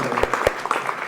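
An audience at a Korean shared-growth forum gives a brief burst of clapping, a handful of scattered claps from a room of people.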